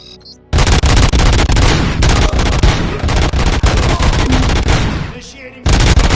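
Gunfire in the video game RoboCop: Rogue City, loud dense bursts of rapid shots running almost continuously, with a short lull before firing resumes.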